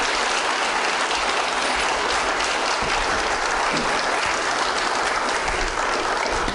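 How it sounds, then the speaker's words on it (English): An audience at an ethics lecture series claps for the speakers in a dense, sustained burst of applause that holds steady and fills the room throughout. "I would like to ask for another round of applause for our speakers"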